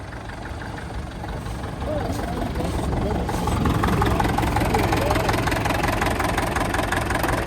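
A McCormick B614 tractor engine runs steadily at an outdoor tractor run, a loud, close diesel rumble that swells slightly after a couple of seconds and keeps a rough, even chug throughout.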